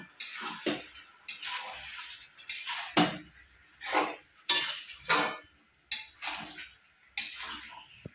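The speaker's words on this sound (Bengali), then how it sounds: "এবার ভালো করে মাংসটা আমি কষিয়ে নেব।" A spoon scrapes and stirs chicken pieces frying in a pan with garlic, ginger and green chili pastes and chopped tomato for chicken kosha, about ten distinct rhythmic metallic scraping strokes, close and alone.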